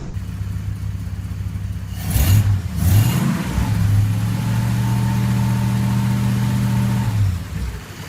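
A Hudson H145 high-compression, long-stroke six-cylinder engine runs with a deep, steady low-pitched drone after a couple of brief revving bursts, loud and close, settling into an even idle before fading slightly at the end.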